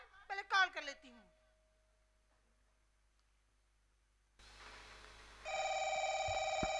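Someone speaks briefly, then after a quiet pause a phone starts ringing with a bright electronic ringtone, loud and continuous until the end.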